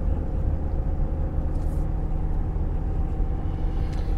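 A car drives along a country road between Canterbury and Whitstable, heard from inside as a loud, steady low rumble of engine and road noise throughout, with no voices.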